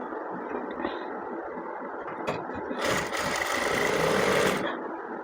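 A sewing machine runs a short burst of top stitching on a child's Peter Pan collar, a close, steady mechanical whir in the middle of the clip with quieter handling before and after.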